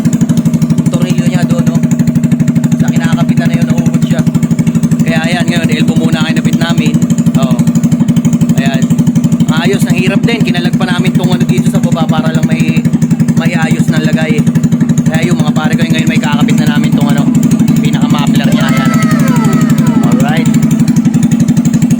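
A motorcycle with a newly fitted aftermarket exhaust pipe and elbow runs loud and steady throughout, its low engine drone continuous while people talk over it.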